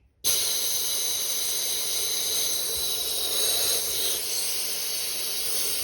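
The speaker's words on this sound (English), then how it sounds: "Nope, too much air escaping. Way too much air escaping. It's just escaping everywhere." Air hisses steadily out of a tubeless bicycle tire on a YT Izzo mountain bike set up with Stan's sealant while it is being inflated. The sharp, loud rush starts abruptly and holds with little change, close to the listener and without speech.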